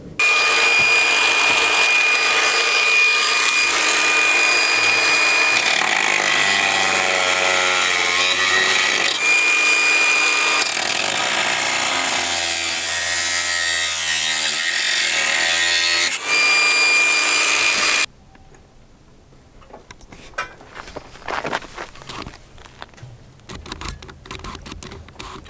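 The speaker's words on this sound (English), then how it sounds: "My electric cutoff wheel battery died halfway through, so I kind of had to work it out with the Sawzall" Cordless electric cutoff wheel grinding through metal on a Honda K20 engine swap job, a loud sustained high whine with shifting pitch, then a Sawzall takes over with choppier, rattling reciprocating cuts.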